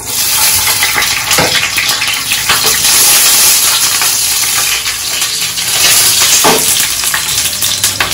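Capsicum frying in a hot pan for chilli paneer, a loud continuous sizzle with scraping stirs and occasional clinks of a spatula against the pan.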